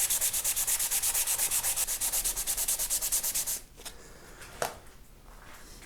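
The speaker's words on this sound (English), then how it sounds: "I'm just literally going to do a bit of sanding" A guitar headstock is sanded by hand in quick, even back-and-forth strokes, a loud rhythmic rasp that stops partway, followed by quiet handling noise with one sharp tap.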